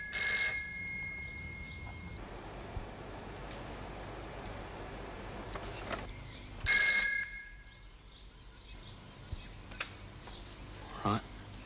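A landline telephone rings in two short bursts, near and fairly loud, separated by several seconds of quiet room tone with faint background stirrings.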